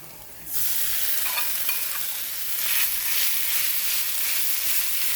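A loud, steady sizzle of leftover pork reheating in a pan starts abruptly and continues at full strength, with faint crackles scattered through the hiss.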